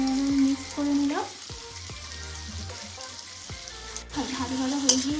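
Tomato, soy and chili sauces being mixed in a pan for chili chicken, a soft sizzle under intermittent scraping and stirring strokes, close with some clanks and tonal hum in the background, no talking.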